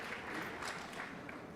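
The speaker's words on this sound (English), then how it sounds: "So round of applause for our JV teams" Faint, distant applause from a crowd at a high school athletic sports assembly, scattered clapping for the JV teams heard at low level.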